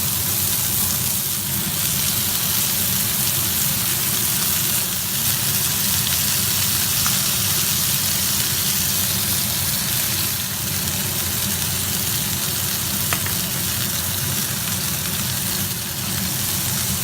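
Burgers sizzle on a hot grill in a steady, dense hiss that holds evenly for the whole stretch, with no talking over it.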